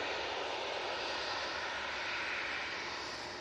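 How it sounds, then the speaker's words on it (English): An Etihad Boeing 777-300ER inbound from Abu Dhabi on approach to Manchester gives off a steady, dense, broadband jet roar, loud and unbroken, with no voices. "777-300 ER coming in from Abu Dhabi."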